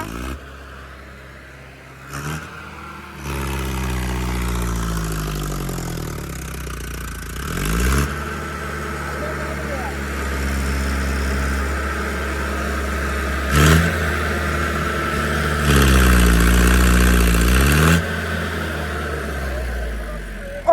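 A tractor engine on a farm during the wheat harvest revs up loudly and close by in two rising and falling surges over a steady rumbling idle.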